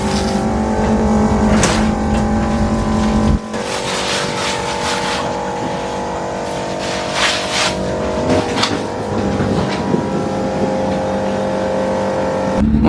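Classic race car engines revving loudly at Oulton Park circuit during the Gold Cup, a close, sustained roar that drops abruptly and then rises and falls again in repeated revs.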